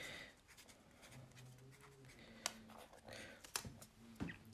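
A pen scratches notes onto paper in a quiet indoor setting, with faint, soft, irregular strokes and a few small taps across several seconds.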